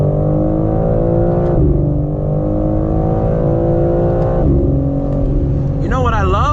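A 2022 BMW M4 Competition's deep engine drones loudly and steadily during a night drive, its pitch dropping sharply at each gear change, followed by a rising rev with a crackling exhaust burble near the end.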